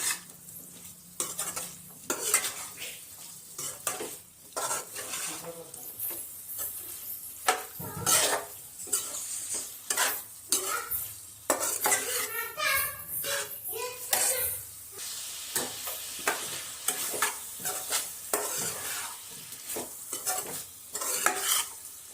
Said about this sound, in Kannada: ಈ ತರ ಒಂದ್ 5 ನಿಮಿಷ ಫ್ರೈ ಮಾಡ್ಕೋಬೇಕು ನೋಡ್ರಿ.